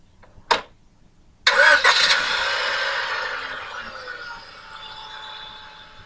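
Car engine starting: a sharp click, a brief pause, then a cranking burst that catches into a loud, steady running rumble that slowly settles and fades toward idle, with no talk.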